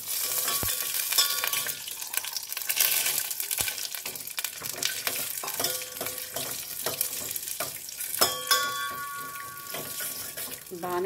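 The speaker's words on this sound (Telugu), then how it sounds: "సో ఒక 2 టేబుల్ స్పూన్ అంత నెయ్యి వేసేసుకొని జీడిపప్పు వేయించేసుకుందాం" Cashew nuts fry in hot ghee with a continuous sizzle, accompanied by stirring and clinking utensil sounds, steady and close throughout.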